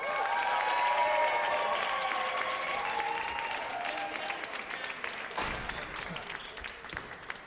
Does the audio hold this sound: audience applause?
yes